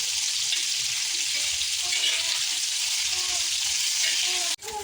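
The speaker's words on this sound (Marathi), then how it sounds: "इथे कोलंबी एका साईडने फ्राय झालेली आहे." Prawns fry in hot oil with a steady, dense sizzle that runs close and loud throughout, briefly cutting off near the end before resuming.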